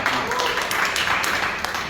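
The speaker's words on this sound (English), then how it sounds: "let us give a hand of applause to the achievements of Toastmasters" A club meeting audience of Toastmasters claps, a close, continuous patter of hands that stays fairly loud and fades slightly near the end, with some voices mixed in.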